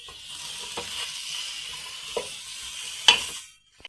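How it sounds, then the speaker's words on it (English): Peppers, onions and garlic fry in a pan for ratatouille, giving a steady close sizzle with a few scraping stirs and utensil knocks, then the sound drops away at the end. "you fry those with the onions and the garlic, and then when soft,"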